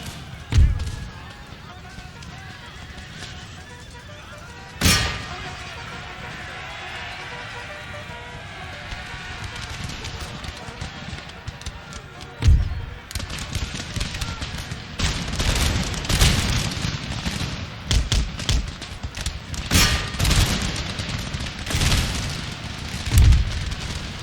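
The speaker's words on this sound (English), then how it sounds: "Now the cannon's going to go." Cannon fire in the Napoleonic-era battle game Empire: Total War, near Munich, with several loud booms spaced through the stretch and denser rumbling volleys and blasts building toward the end, mixed with battlefield noise.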